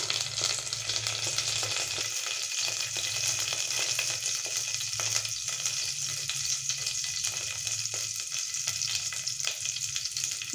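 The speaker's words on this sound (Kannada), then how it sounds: "ಸ್ವಲ್ಪ ಎಣ್ಣೆ ಬಿಡೋಣ ಒಂದು ತ್ರೀ ಟೇಬಲ್ ಸ್ಪೂನ್ ಆಯಿಲ್ ಹಾಕಿದ್ದೀನಿ ಜೀರಿಗೆ ಬೆಳ್ಳುಳ್ಳಿ ಹಸಿಮೆಣ್ಸಿನ್ಕಾಯಿ ಮತ್ತು ಕರಿಬೇವು" Cumin seeds, garlic, green chilli and curry leaves sizzle in about three tablespoons of hot oil, a loud continuous frying crackle close by that holds steady throughout, with faint stirring and no voices.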